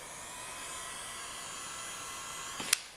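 A heat gun warming vinyl wrap on a car door handle gives a steady, close, airy blowing hiss, ending in a couple of quick sharp clicks.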